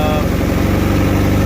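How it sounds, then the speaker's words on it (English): A 1990s superbike engine idles steadily after carburetor synchronization, a loud close-up rapid low-pitched pulsing chug with a constant even rhythm and no talk. "So it's idling"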